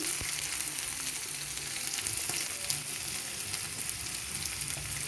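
Chopped onion frying in hot oil in a wok, a steady, close, crackling sizzle that holds evenly throughout with no voices.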